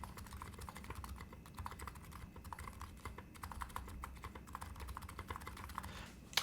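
Typing on an electro capacitive keyboard fitted with silencing rings, a steady stream of soft, muted keystrokes close by, quiet and rapid with no talking.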